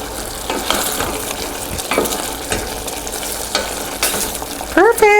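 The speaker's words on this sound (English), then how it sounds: "And give that a stir around." Brussels sprouts and squash sizzle steadily in a pan while a utensil stirs them with repeated scraping strokes, close and fairly loud, ending in a few brief clinks.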